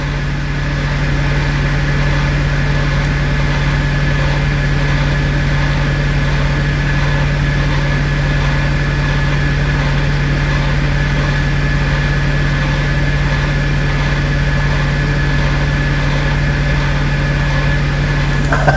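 Truck engine idling while waiting in a truck wash line, a loud, steady low rumble with a constant hum and vibration, unbroken and close, with no voices.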